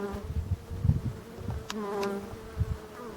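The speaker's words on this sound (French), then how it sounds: "Bon voilà la célèbre abeille noire" Wild black bees of Brittany buzzing in a marsh, a steady low drone with several close, swelling passes over about three seconds.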